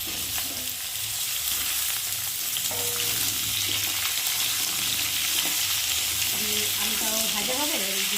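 Potatoes sizzle in hot oil with whole spices in a home kitchen pan for a fish, potato and eggplant curry, a steady crackling hiss broken by occasional scraping of a spatula as they are stirred.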